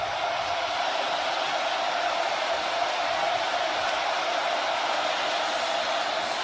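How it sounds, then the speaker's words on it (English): Steady roar of a football stadium crowd at the 2023 Tennessee vs. Florida game, a loud, even wash of massed voices that never lets up. "And the first possession for Milton amidst all this crowd noise."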